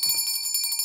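A small bell rings in a cartoon, a quick bright chime struck once and then trilling briefly, clear, close and alone.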